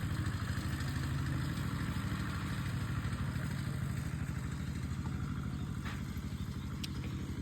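A farm tractor engine runs nearby with a steady, low chugging rumble and faint rattling, holding an even pace throughout.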